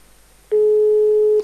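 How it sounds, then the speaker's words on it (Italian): Outgoing telephone call tone heard during a live broadcast, a single steady electronic tone starting abruptly after a quiet moment and holding for about a second, clear and alone. "Sta squillando."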